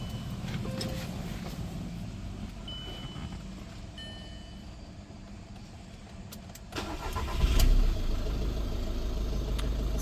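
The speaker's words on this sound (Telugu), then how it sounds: "ఒకసారి ఇంజన్ స్టార్ట్ చేసి చూపిస్తాను." A 2018 Skoda Rapid diesel engine cranks and catches partway through on a single crank, then settles into a steady low idle after a stretch of quiet background hum.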